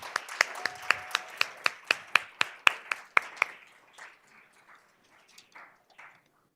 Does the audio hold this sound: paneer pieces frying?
no